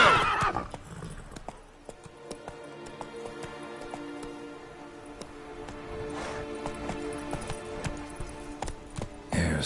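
Geralt's horse Roach in The Witcher 3: Wild Hunt, with steady hoof clip-clops and a whinny running through a misty scene, over ambient game sound and no talk.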